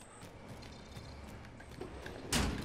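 A door slides and thuds shut with a sharp burst near the end in the video game Warzone, after quiet background rumble and faint clicks.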